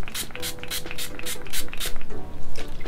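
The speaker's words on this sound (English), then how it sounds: "This is the All-Star Facial Setting Spray." A bottle of ColourPop All-Star facial setting spray is misted in rapid repeated pumps, a run of short hissing spritzes at close range with a slightly irregular rhythm.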